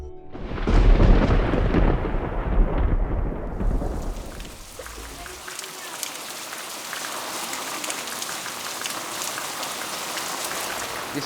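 Steady rain pours down outdoors, with a heavy rumble of thunder at the start giving way to a continuous wash of falling drops.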